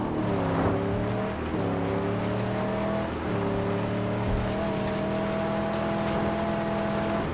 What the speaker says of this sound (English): Now let's drive for a bit.